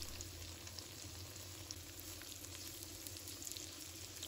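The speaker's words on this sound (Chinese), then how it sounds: "继续煎另一面，" Stuffed tofu fries over low heat in a pan as its second side browns, giving a faint, even, continuous sizzle with no talking.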